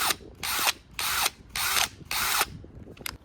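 A worn old cordless drill runs in four short bursts with gaps between, each burst a harsh, rickety rattling whir close by, followed by a couple of faint clicks.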